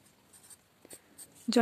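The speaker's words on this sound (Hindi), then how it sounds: "तो हम यहाँ लिखेंगे ज्वाइन, यहाँ लिखेंगे हम" A pencil moves across paper while a sleeve pattern is drafted, giving a few faint, light strokes in a quiet room before a voice starts speaking at the end.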